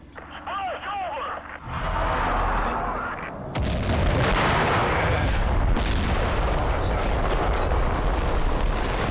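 Explosions and gunfire from the Combat Mission war game set in a 1982 desert battle: a sustained, loud roar of blasts and crackling fire that swells after a few seconds, with softer rumbling and a faint voice beneath at the start.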